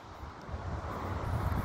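Wind gusts across a microphone on the south end of Cocoa Beach, Florida, near the Space Force area, a close, steady rumbling buffet that swells slightly louder over a couple of seconds.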